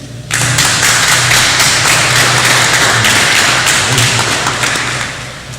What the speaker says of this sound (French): je vous demande d'applaudir à nouveau